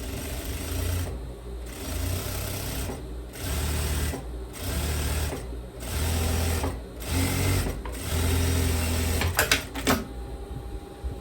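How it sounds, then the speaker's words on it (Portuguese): A sewing machine runs a topstitch on a kimono-style dress in repeated bursts of a loud, close, droning whir. Short gaps of near silence separate the bursts, and a couple of clicks come near the end. "Agora, eu venho aqui por cima e vou passar um pesponto pra ficar bonito"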